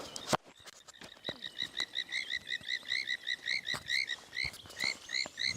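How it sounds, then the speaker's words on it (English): Frogs call at night in an African safari setting, a steady series of rhythmic, chirping croaks repeating about twice a second, with sharper clicks and a faint background hiss. "Don't know if you folks can pick up those frogs from my microphone."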